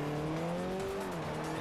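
A Chevy Spark drifting in Forza 4 gives off a steady, sustained tire squeal over a droning engine note, loud and continuous for a short moment.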